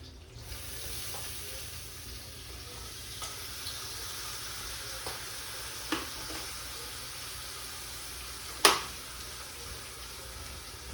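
A butterflied steak searing in a hot pan gives a steady, close sizzle that holds throughout, with a few faint clinks and one sharp metallic knock near the end.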